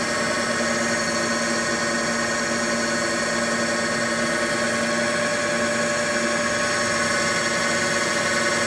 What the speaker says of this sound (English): next we'll go ahead and fire up the spindle